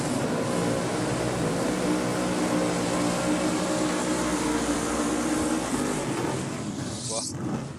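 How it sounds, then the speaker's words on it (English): A one-tonner ute doing a big burnout at Sydney Dragway gives a steady, loud roaring drone with tyre hiss, continuous for several seconds before easing slightly at the end. "Big burnout from the one-tonner."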